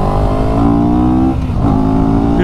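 A CF Moto CLX 700 motorcycle roars loudly on a racetrack, its engine holding a steady high drone with a brief dip and recovery in pitch midway, close and continuous.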